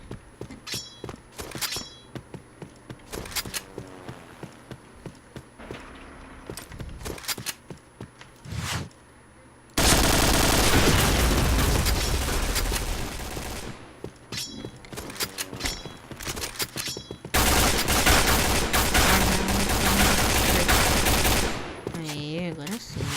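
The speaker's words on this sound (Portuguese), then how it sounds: "O cara acertou um tiro em mim." Gunfire in the Point Blank shooter video game: scattered sharp shots early on, then long, loud, dense bursts of rapid automatic fire that dominate the later half, with faint voices at times.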